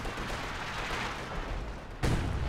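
Artillery fire in Company of Heroes 2, a dense rumbling barrage that ends in one heavier, closer boom.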